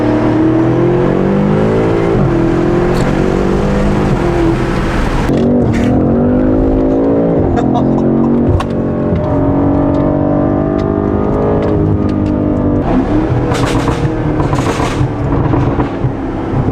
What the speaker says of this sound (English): This car to sound this good with no downpipes is very impressive.